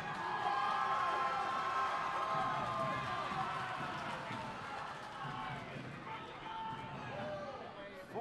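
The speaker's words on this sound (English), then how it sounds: "You hear the crowd getting him into it." High school homecoming wrestling event crowd cheering and shouting, a steady loud roar of many voices in a gym with a commentator speaking over it.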